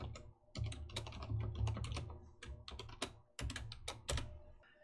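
Code being typed on a computer keyboard while building a Unity game, with quick bursts of close, crisp key clicks and a short pause partway through.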